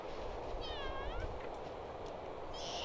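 A cat meows in The Sims 2 video game, one clear, wavering meow near the start followed by a fainter cry, heard over steady low background hum with no talking.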